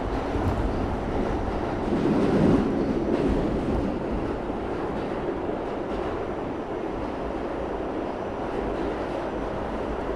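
A New York City subway train heading to Midtown Manhattan rumbles steadily along the rails, a continuous low roar with faint rattles and clacks, no voices.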